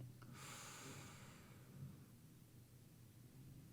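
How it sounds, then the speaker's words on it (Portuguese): A deep diaphragmatic breath exhaled slowly during a guided relaxation, a soft, airy rush that fades over a few seconds in a quiet room with no talking. "Mais uma respiração diafragmática"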